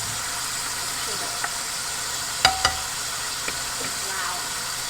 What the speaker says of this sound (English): I don't think anybody can hear anything over the sizzle of the shrimp